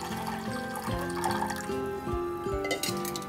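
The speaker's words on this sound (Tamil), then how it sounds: "இப்போ வடிகட்டின சக்கரை தண்ணியை வந்து இதில்" Filtered sugar syrup water poured into a pan for Chettinad kummayam, a close, bubbling, gurgling pour with shifting tones that carries on throughout.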